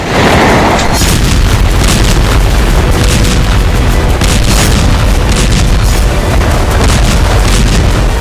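Explosions from Israeli bombardment of Rafah pound continuously, with heavy, loud booms and crackling bursts blending into a dense, unbroken roar of blasts throughout.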